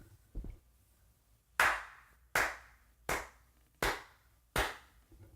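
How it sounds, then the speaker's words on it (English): Hand claps for syncing podcast audio: after a faint early tap, five sharp, loud claps come one by one at a steady, evenly spaced pace, with near silence between them. "Clap, sync it up real quick."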